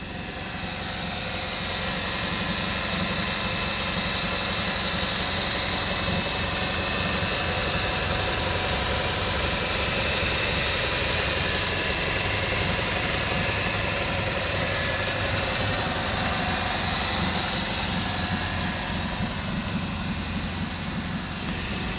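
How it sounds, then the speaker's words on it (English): A 2006 Mazda Tribute SUV's 2.3-liter four-cylinder engine idles steadily and loudly up close, with a constant hum and a fine rhythmic ticking throughout. "So, I'll let you listen to the motor."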